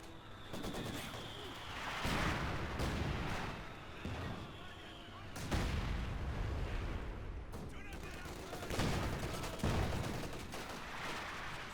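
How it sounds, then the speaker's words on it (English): Battle gunfire in Company of Heroes 2, with rifle and machine-gun bursts and heavy blasts sounding in waves through a dense, continuous combat din for the whole stretch, broken by louder surges. "Opening fire."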